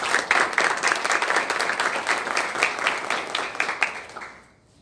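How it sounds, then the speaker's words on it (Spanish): Warm audience applause for a vice minister of human rights at a formal presentation event, dense steady clapping that fades away at the very end. "les pido un cordial aplauso"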